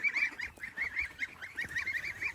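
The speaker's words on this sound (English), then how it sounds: "Look how big the geeseys are and the duckies." Geese honk repeatedly in a steady, busy chorus, fairly close, with a few duck-like calls mixed into the outdoor background.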